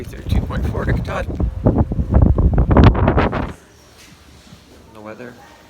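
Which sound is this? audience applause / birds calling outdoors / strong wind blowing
strong wind blowing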